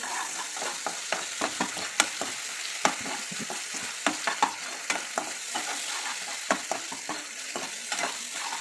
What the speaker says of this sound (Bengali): আদা রসুনটা যতক্ষণ কষাতে থাকবো ততক্ষণে না টমেটোটা নরম হয়ে যাবে